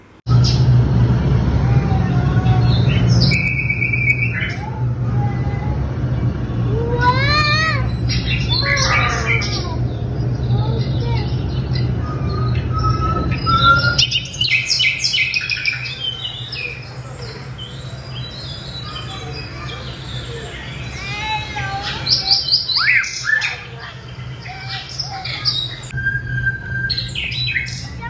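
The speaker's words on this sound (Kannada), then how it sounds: "ಪಕ್ಷಿಗಳ ಚಿಲಿಪಿಲಿ ಧ್ವನಿ ಅಂತೂ ಕೇಳಿದ್ರೆ ಒಂಥರ ಪಾಸಿಟಿವ್ ಎನರ್ಜಿ ಸಿಗೋದಂತೂ" Many birds chirp, tweet and sing at a crowded exhibition, with bright overlapping calls and squawks in bursts over a steady low hum and background murmur.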